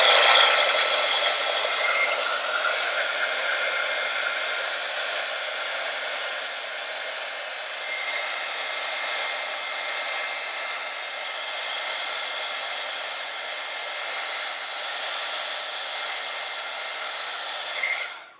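A handheld heat tool melts embossing powder on paper leaves, blowing a loud, steady hairdryer-like whoosh for nearly twenty seconds before it cuts off at the end.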